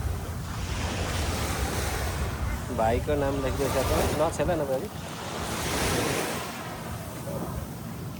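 Sea waves washing onto the shore at Sentosa, Singapore, a steady broad rush beneath people talking nearby, with wind noise on the microphone.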